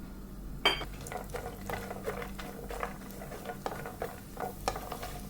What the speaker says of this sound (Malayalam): അതിലേക്ക് കുറച്ച് നെയ്യാണ് ഇട്ട് കൊടുക്കുന്നത് ആദ്യം തന്നെ അണ്ടിപ്പരിപ്പങ്ങ് മൂപ്പിച്ചെടുക്കാം